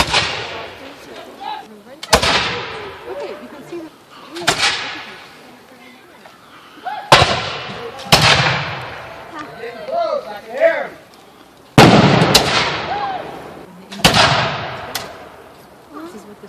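Gunfire in the War 1835 video game as shots go through a fence at attackers: about seven sharp, loud blasts at irregular intervals, each with a decaying tail, while voices talk between and over them.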